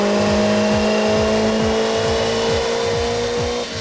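A car engine revs hard and steadily on a dynamometer after an intercooler install, with the ignition timing corrected. The loud sustained drone carries regular rhythmic pulses and rising harmonic tones, and it eases off right at the end.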